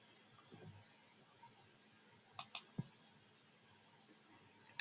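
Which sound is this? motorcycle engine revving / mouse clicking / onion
mouse clicking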